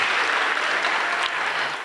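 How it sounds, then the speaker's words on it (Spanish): Applause from an audience at a school inauguration ceremony, a dense burst of clapping at steady loudness for a couple of seconds, no voices. "Un fuerte aplauso para Yara Gutiérrez"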